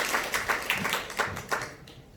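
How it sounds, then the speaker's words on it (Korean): A church congregation applauds together in a reverberant hall, a dense wash of many hands with rhythmic swells that fade toward the end. "박수로 하나님께 영광을 드립니다."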